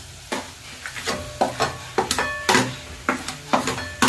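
Badi and chopped tomatoes fry in a pan, a spoon scraping and stirring in repeated strokes over a steady close sizzle.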